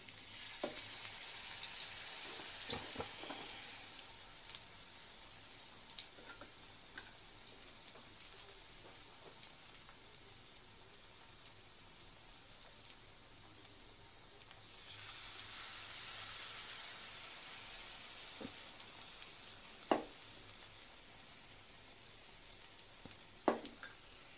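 Stuffed cabbage leaves fry in a pan with a soft, steady sizzle and crackle, quiet and continuous, swelling a little midway, with a few sharp clicks and taps near the end and no talk.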